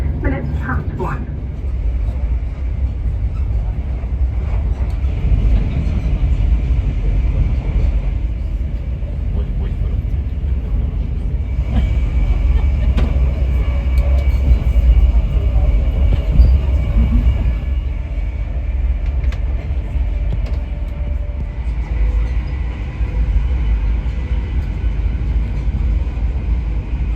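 A ScotRail HST diesel passenger train rumbles steadily along the rails near Stirling station in Scotland, with a continuous low drone and faint rattling, while a voice speaks throughout.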